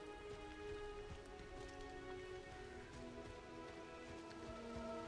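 Rain falls in the Diablo 4 video game, a soft, continuous patter of drops on surfaces beneath a faint layered ambient drone, steady and quiet throughout.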